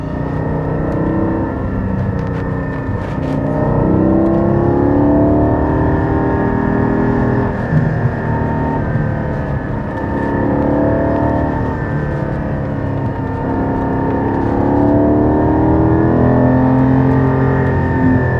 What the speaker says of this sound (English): Sports exhaust. Well, it's definitely on.